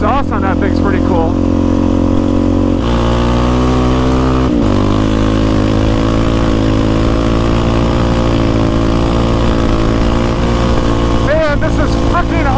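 A Can-Am side-by-side with dual exhaust runs along a river, its engine drone steady and loud from start to finish with a brief dip near the middle, while people talk over it.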